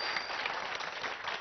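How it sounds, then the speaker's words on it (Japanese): A studio audience claps in a brief, soft, even patter of applause lasting just over a second. "拍手"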